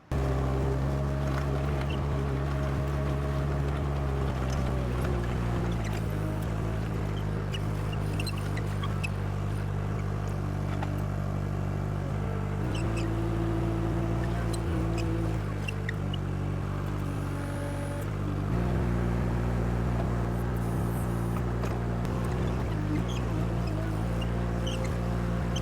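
Truck engine idling and rolling down a driveway, delivering a pallet of St. Augustine sod; a steady low, loud drone with harmonic hum that persists throughout, with no talk.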